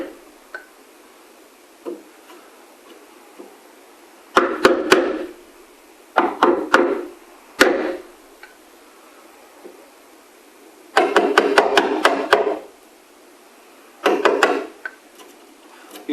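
A chisel cuts into wood while a bombe secretary's writing surface is fitted to its case, sounding as clusters of sharp rapid taps and knocks in several bursts between quieter pauses.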